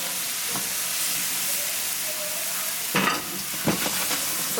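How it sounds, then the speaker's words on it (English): Garlic and shrimp fry in a pan with a constant close sizzle, broken by a few scraping stirs of the spoon toward the end, no voices. "you want to constantly stir this because you don't want your garlic to burn"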